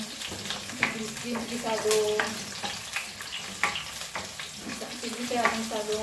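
Garlic and onion frying in a pan for chicken feet adobo, a constant crackling sizzle punctuated by clinks and scrapes of a spatula, with someone talking quietly over the cooking.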